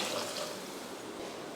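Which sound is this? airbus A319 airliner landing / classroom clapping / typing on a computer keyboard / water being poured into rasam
water being poured into rasam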